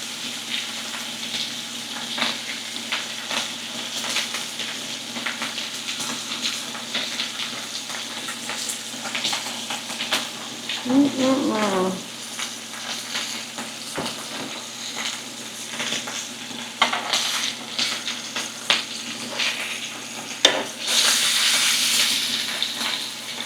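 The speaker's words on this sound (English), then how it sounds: "You hear that sizzling? Sounds really good." Steak sizzles and crackles steadily in a hot frying pan on an induction cooktop, a constant hiss with occasional clinks and stirring sounds on top.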